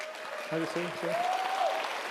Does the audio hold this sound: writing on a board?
no